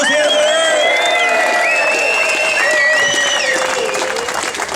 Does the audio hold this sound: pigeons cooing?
no